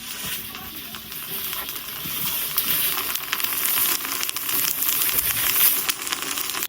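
Puffed rice being hand-roasted in Talpukur, Dinajpur, makes a dense, continuous crackling hiss that swells slightly louder over several seconds, with no voices.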